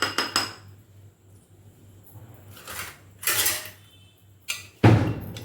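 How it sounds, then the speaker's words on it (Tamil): A plate is set over a bowl of green chillies soaking in curd, giving several close, sharp ceramic clinks and scrapes in short bursts, with quiet pauses between them and a heavier clunk at the end. "அவ்வளோதான், பிளேட் போட்டு மூடிடுவோம்."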